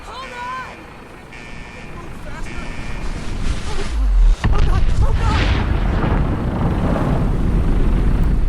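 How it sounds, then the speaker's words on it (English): Nuclear detonation in the video game Fallout 4: a loud deep boom hits midway, then a sustained heavy rumble and roar that continues to the end, with voices faintly present early on. "Nuclear detonation"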